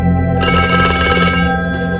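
A telephone rings in a home, its bell tone loud and close, starting abruptly after a brief silence and sustaining with a dense, shimmering texture for about two seconds.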